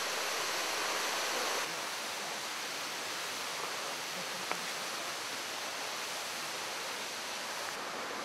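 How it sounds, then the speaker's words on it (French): Ryumon no Taki waterfall in a forest in Yoshino, Japan, falls as a constant, even hiss and rush of water, heard from a meditation spot nearby, with one faint brief click partway through. "vous êtes exactement au meilleur endroit dans cette forêt pour entendre le bruit de la cascade qui tombe"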